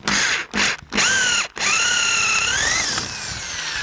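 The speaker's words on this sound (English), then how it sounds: "I drill a few holes." A power drill bores holes into the wall of a wooden natural-edge hollow form, with several short high-pitched bursts followed by one longer steady whine that rises slightly in pitch, loud and close, with no talking.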